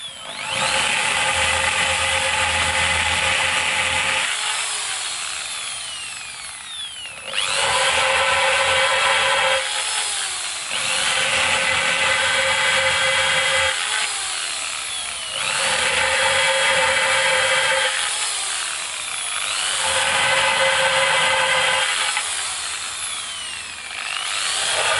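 A power drill whirs in repeated bursts of a few seconds each, boring holes with 8mm and 10mm bits, brief pauses between holes, close and loud.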